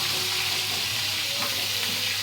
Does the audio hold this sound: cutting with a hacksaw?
no